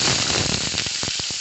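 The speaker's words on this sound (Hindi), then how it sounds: "अब इसके अंदर प्याज डाल देंगे" Sliced onions hitting hot oil already browned with crushed garlic, giving a loud, steady sizzle with crackling pops throughout, close and with no voices.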